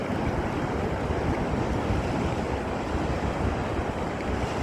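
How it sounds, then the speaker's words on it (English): Ocean waves wash onto the shore in a constant broad roar, mixed with wind buffeting the microphone; steady and fairly loud with no talk. "Do you guys hear the sound of the waves?"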